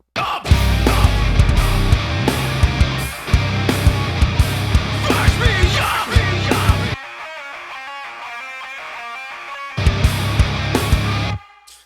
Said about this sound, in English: threw a really cool scoop lead in there as well.